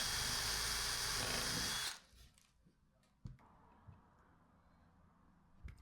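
A power drill countersinking holes in the top of a 2x4 for hook fittings whines loud and steady for about two seconds, then stops, leaving a quiet room with a few faint knocks.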